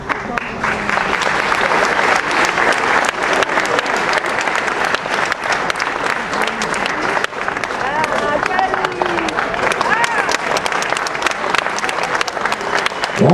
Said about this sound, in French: je vous remercie de l'applaudir